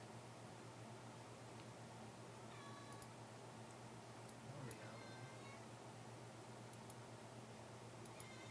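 Several short, faint meows from a pet cat over steady low background hum, spaced irregularly across the stretch with no talk.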